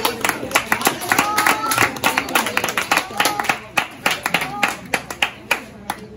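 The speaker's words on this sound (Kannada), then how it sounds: "ಎಲ್ಲರಿಗೆ ಚಪ್ಪಾಳೆ ಕೊಡಿ" An audience at a Christmas celebration claps for named participants, the individual claps sharp and distinct, fairly close and uneven, thinning toward the end, with some voices underneath.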